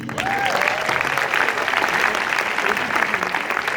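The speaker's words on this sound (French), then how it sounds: "je crois qu'on peut les applaudir" An audience breaks into loud, sustained applause for a film's actors at a public event, many hands clapping close and thick, with a brief voice audible near the start.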